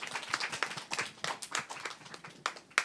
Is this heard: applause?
yes